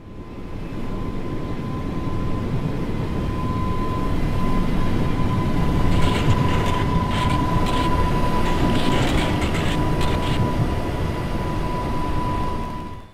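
A Class 484 train runs steadily on the Island Line in Train Sim World 4, giving a continuous rumbling roll with a faint high whine, and brief rattling clicks come midway.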